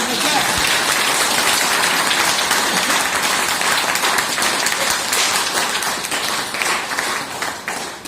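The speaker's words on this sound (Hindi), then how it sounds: "एक बार जोरदार ताली इसके लिए" An audience at a motivational seminar bursts into loud, continuous applause, a dense wash of clapping that holds steady for several seconds and tapers slightly near the end.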